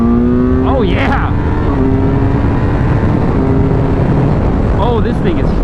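A Kawasaki Z900 inline-four motorcycle accelerates hard, its engine rising in pitch through two gear changes with a steady loud roar and heavy wind noise, plus a few short voice sounds over it.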